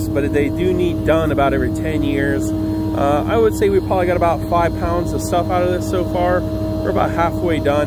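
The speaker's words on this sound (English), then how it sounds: "you can hear the truck running, but you can also hear the machine" A truck-mounted air duct cleaning machine and the idling truck engine that powers it drone in a low, steady hum at a house, running continuously beneath someone talking close by.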